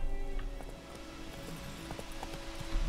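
Horse hooves clip-clop at a quick gallop under a low background hum, moderately loud and close, in the video game The Witcher 3: Wild Hunt.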